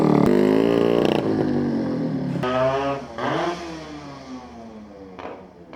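A modified Yamaha RX135 two-stroke motorcycle converted to a five-speed gearbox, with its engine freshly rebuilt, revs close by in loud, rising and falling bursts that fade toward the end, and no speech is heard.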